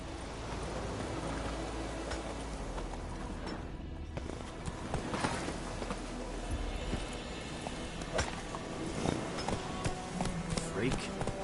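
The horse Roach in The Witcher 3 video game pounds along at a gallop, its hoofbeats a steady rhythmic clatter under game ambience and a few scattered louder thumps.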